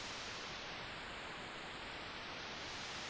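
A steady, unbroken hiss of broadband noise from an audio plugin fills the whole stretch evenly, bright and constant with a faint slowly shifting tonal sweep near the top.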